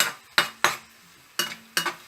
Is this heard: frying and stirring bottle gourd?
yes